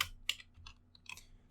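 Typing on a computer keyboard, a quick irregular burst of close, crisp key taps over a faint background hum.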